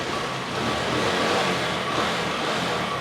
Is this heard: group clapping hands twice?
no